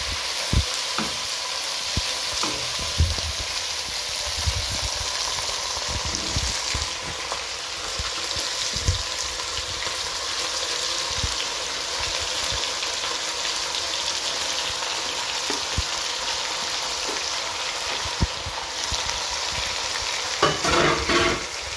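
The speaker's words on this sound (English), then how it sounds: "We mix our tomatoes in. And mix very well to see that it's evenly spread." Tomatoes are stirred into pilao rice with beef frying in a pan, a continuous bright sizzle broken by scraping stir strokes and occasional clatter, close and steady with no talking.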